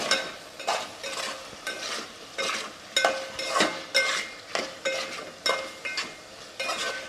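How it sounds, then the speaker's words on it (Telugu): Egg curry stirred in a pan, a steady rhythm of scraping spoon strokes roughly every half second over a soft sizzle, close and fairly loud, with no talking. "ఇప్పుడు మనం ఒకసారి కలుపుకుందాం"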